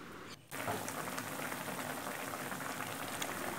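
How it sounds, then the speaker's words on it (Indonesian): A pot of water for ayam bakar pangupa bubbles at a steady rolling boil, a dense, even burble heard close and fairly quietly, with no talking over it. "ini sudah mendidih ya"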